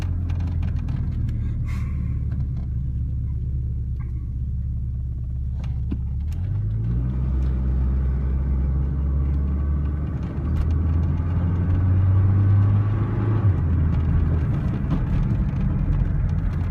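A turbocharged Chrysler LeBaron drives along with a steady low engine rumble inside the cabin, revs rising and holding in gear before shifting, with a distinct swell in pitch midway and again near the end.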